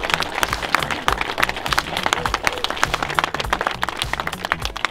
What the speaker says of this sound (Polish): tutaj brawa dla Grzegorza Turskiego, który to wszystko wymyślił.